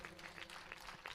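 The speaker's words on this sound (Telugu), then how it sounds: "ఈ సేవకులందరి కొరకు ఒకసారి గట్టిగా చప్పట్లు కొట్టండి" Applause from a church congregation at a revival gathering, a dense, fairly faint patter of many hands clapping steadily for about a second.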